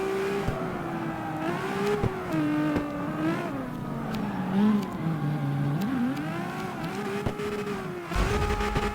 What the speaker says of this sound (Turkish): Baksana drift yapamadan duramıyor araba.